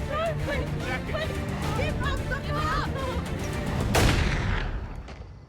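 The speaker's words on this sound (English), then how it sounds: "Felicia shoots Brenda at point-blank range." A sharp gunshot at point-blank range in a crime reenactment cracks out loud and close over tense shouting and commotion, followed by a fading reverberant tail.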